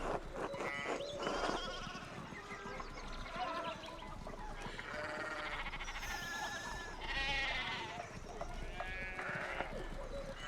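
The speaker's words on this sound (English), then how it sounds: "we need to get these sheep under control" Sheep bleat repeatedly in the medieval video game Pentiment, a dense, busy mix of animal calls layered over game ambience, with other livestock-like cries overlapping throughout.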